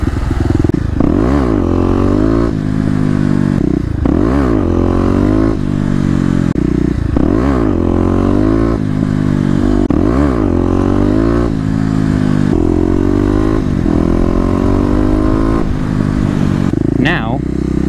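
A Kawasaki KLX250 dirt bike ridden hard, its single-cylinder engine revving up and down in repeated rising and falling pulls over about eighteen seconds, loud and close with steady wind and clatter.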